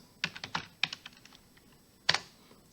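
A short burst of typing on a computer keyboard, with sharp, close clicks in quick clusters, a pause, and then another cluster of keystrokes, all fairly quiet and with no voices.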